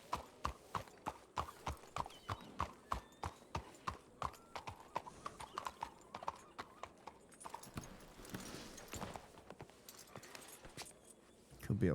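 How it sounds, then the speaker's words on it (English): Hooves of a horse in a western roleplay game clip-clop in a steady walking rhythm, fairly close, then give way to a rustling wash and a short whinny-like burst near the end. "There's a horse there."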